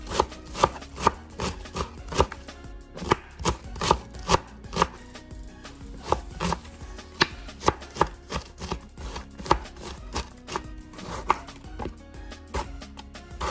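A kitchen knife chops garlic and other ingredients for seafood pasta on a board, producing steady, rapid, close-up knocks in an irregular rhythm that continue without pause, with no talk.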